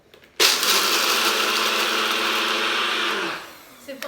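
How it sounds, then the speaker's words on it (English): A NutriBullet blender grinds cashews and pine nuts: a loud, steady motor whir starts abruptly, holds for about three seconds, then winds down, with a small clatter at the end. "So I'm going to pop those in my NutriBullet."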